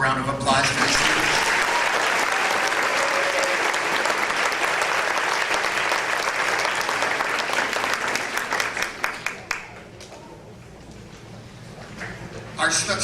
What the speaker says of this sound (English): Let's have one more round of applause for this student.